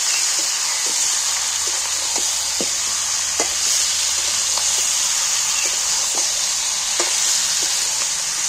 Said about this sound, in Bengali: মাংসটা নেড়ে দিই